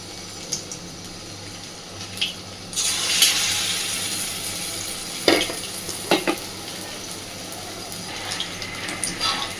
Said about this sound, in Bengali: দেখুন, ডিমগুলোর এক পিঠ ভাজা হয়ে গেছে।